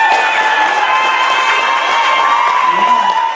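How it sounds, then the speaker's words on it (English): A crowd cheering and shouting to welcome the St. Kitts Nevis Carifta athletics team home at a ceremony, a steady, loud mix of excited voices and whoops, with sustained tonal sounds running through. "Cheers and applause as the St. Kitts Nevis Carifta team arrived at a welcome ceremony"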